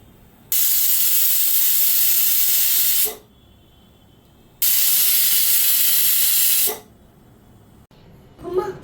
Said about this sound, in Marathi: आपल्याला कुकरच्या 3 शिट्ट्या करून घ्यायच्या आहे